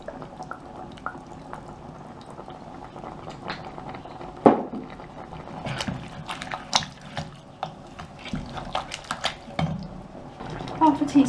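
A utensil stirs bolognese with tomato puree and mixed vegetables in a pan, making wet, squelchy scrapes and clinks that grow busier toward the end, with a voice talking at times.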